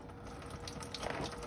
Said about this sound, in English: I'm sure a bit of water will spill out.